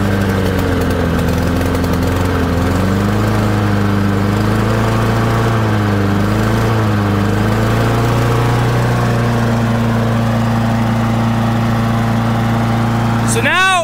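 Honda lawn mower engine running steadily up close, its loud droning hum rising and falling in pitch as the throttle lever changes the RPMs, with a brief sweeping whine near the end.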